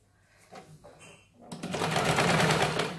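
A sewing machine stitches the folded cross strip of a katori blouse, starting after soft handling noises and running steadily and close at a fast, even rhythm for the second half.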